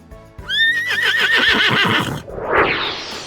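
A horse gives a loud, close whinny with a rising then wavering call, ending in a breathy snort, heard alone with no talk.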